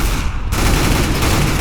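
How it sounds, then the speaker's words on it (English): Dense, continuous gunfire in the shooter game CS:GO fills the whole stretch, loud and sustained, with a brief darker gap near the start before the shots settle into a steady barrage. "You can hear shooting there."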